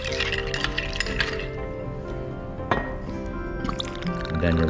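Ice cubes clink and rattle against the glass while an Old Fashioned cocktail is stirred, a close, bright jangle with a louder knock partway through.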